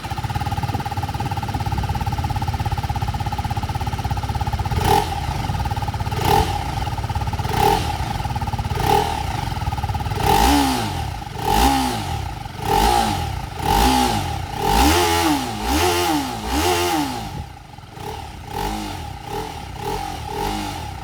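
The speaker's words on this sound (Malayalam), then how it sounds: "പിന്നെ എക്സോസ്റ്റ് നോട്ടിൽ അത് സൗണ്ടിൽ വേരിയേഷൻ ഉണ്ടോ ഇല്ലയോ എന്നുള്ളത് നിങ്ങൾ പറയുക." A 2024 TVS Apache RR310 motorcycle idles with a steady exhaust hum, then its engine revs repeatedly in rising and falling sweeps while being ridden, loud and close.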